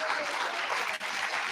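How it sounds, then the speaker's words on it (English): A packed house of attendees claps in a brief, dense burst of audience applause, loud and continuous with a momentary dip partway through. "Please give yourselves a huge round of applause."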